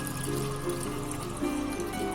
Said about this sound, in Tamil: தேவையான அளவு ஒரு 5 கப்பு தண்ணியை நம்ம சேர்த்துக்கலாம்.